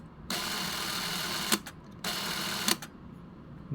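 A Fujica ZC1000 film camera runs in two bursts of steady mechanical whirring after the shutter is pressed, each ending with a brief click, close and alone.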